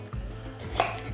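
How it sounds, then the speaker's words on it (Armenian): A kitchen knife cuts the end off an eggplant on a cutting board, giving a couple of crisp, close chopping knocks in an otherwise quiet kitchen. "Կտրում ենք ծայրերը,"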